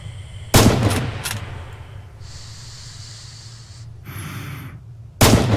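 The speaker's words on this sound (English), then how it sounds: "This is the standard Kar 98 with a sniper scope fitted." A scoped Kar 98 bolt-action sniper rifle firing in a World War II shooter game, two sharp, loud cracks spaced about five seconds apart, with faint rustling and bolt handling between them.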